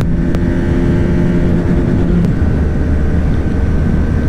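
A 2023 Bajaj Pulsar 200 motorcycle in sixth gear during a drag race, its engine a loud, steady drone blended with heavy wind roar, continuous throughout with no voices.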